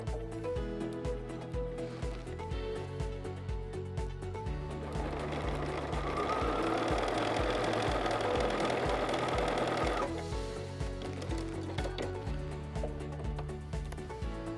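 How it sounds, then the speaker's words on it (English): Close, continuous sewing machine run stitching rubbery fabric, a fast rhythmic mechanical whir with a rougher, denser patch in the middle before the even stitching returns. "Let's sew some rubbery stuff together."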